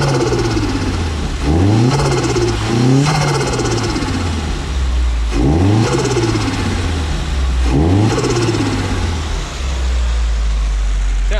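A warmed-up Nissan S15 with a turbo revs hard several times, each blip climbing and falling back to a loud, close idle rumble in a steady rhythm.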